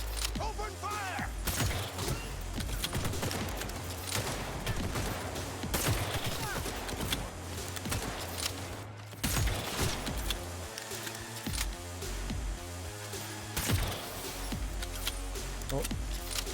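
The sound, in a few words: gunfire sound effect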